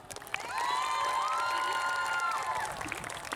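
At a Jumbara scout jamboree stage show, an audience cheers, whoops and claps for the first-place group in a loud burst of crowd noise with high shouted voices, fading away at the end.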